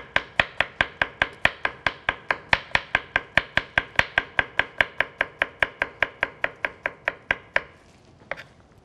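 A knife chops carrots on a cutting board in a steady, brisk rhythm of about three dozen sharp, close taps, ending with a faint final knock and no talking.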